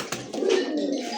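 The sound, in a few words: Lahori pigeon cooing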